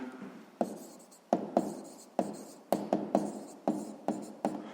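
A pen writes on paper during a sixth-grade math exercise, with close, quiet scratching strokes broken by about a dozen sharp taps as each figure or mark is set down.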